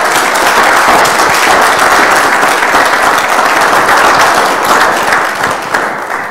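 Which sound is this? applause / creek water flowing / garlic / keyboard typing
applause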